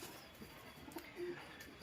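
Pure teddy pigeons, a breeding pair, give soft low coos against a faint background hiss, with a couple of brief murmuring calls and no talking.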